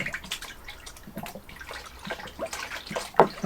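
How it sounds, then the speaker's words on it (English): Water sloshing and dripping as malt extract tins are rinsed out for home brewing, an uneven run of close splashes and trickles. "I'm going to use it to rinse these tins out."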